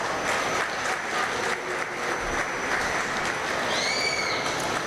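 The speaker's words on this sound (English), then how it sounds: "get these junior exhibitors a round of applause" At a dairy cattle show, a crowd gives a sustained round of applause for junior exhibitors and their heifers, steady clapping throughout with a faint high whistle-like tone near the end.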